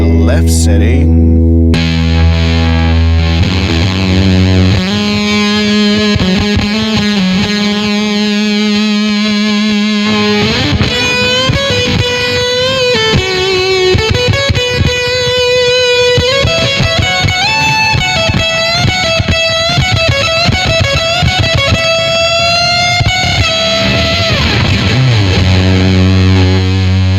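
A Gibson Les Paul electric guitar driven hard through an Old Blood Noise Endeavors Haunt Fuzz pedal, loud saturated fuzz chords and sustained lead lines ringing continuously with thick, buzzy distortion and no talking.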